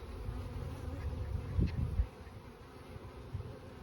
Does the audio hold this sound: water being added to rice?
no